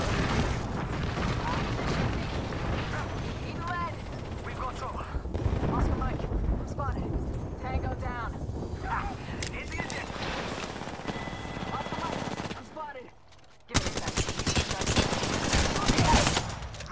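Gunfire in a video game, bursts of shots and rattling fusillades layered with busy game noise and voices talking throughout, with a brief drop to near silence before the action resumes loudly.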